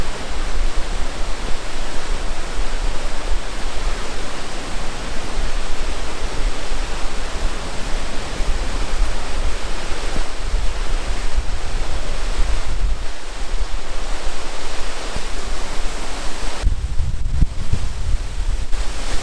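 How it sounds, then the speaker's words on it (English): Muradiye Waterfall in eastern Turkey under snow, heard from a narrow historic bridge: a steady, loud roar of rushing water with wind buffeting throughout, and no voices. "While crossing over the bridge, we can watch the waterfall."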